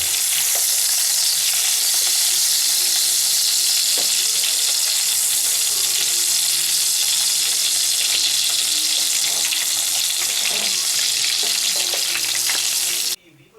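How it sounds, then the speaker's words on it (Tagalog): Vegan longganisa sausage fries in a pan in Ilocos Sur with a loud, steady, close sizzle that fills the whole stretch, dotted with faint stirring sounds and no voices, then cuts off abruptly at the end. "Ganito naman niluluto ang vegan longganisa."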